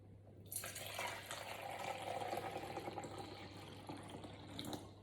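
Hot water pours steadily into a bowl, a continuous close splashing gush that starts after a short quiet moment and runs to the end, with no talking.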